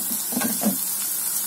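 Garlic and fenugreek frying in oil for a pirandai kuzhambu give off a steady, close hiss of sizzling with faint bubbling, and no talking.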